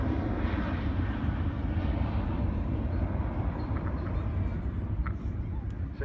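A Boeing 727 flying an airshow display at Farnborough, a steady broad jet roar that holds at a constant level from a moderate distance, with no talk over it.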